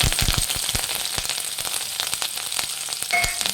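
Green chillies and garlic dropped into hot oil, crackling and sizzling loudly up close with sharp pops and spatters throughout.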